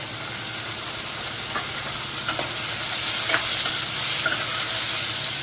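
Octopus being stirred into onions, garlic and chilli frying in a pan for a Marathi-style octopus curry, giving a steady close sizzle with scraping stir noises throughout and no voices.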